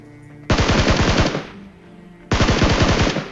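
Gunfire in a shooting video game: two loud bursts of rapid automatic shots, close and full-bodied, separated by a brief pause, with no talk.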